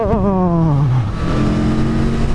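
An Aprilia Tuono motorcycle on a launch control start, its engine revving high and then dropping sharply in pitch as the bike pulls away, loud and close for a couple of seconds.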